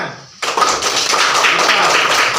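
Children clapping their hands together in a classroom, a sudden burst of quick, dense claps starting after a short quiet moment and continuing loud and close.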